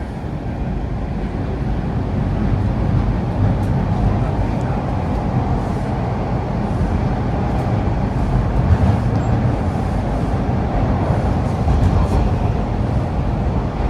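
Toronto Bloor-Danforth Line 2 subway train riding between stations, a loud steady rumble and roar of the moving car holding constant throughout with no breaks.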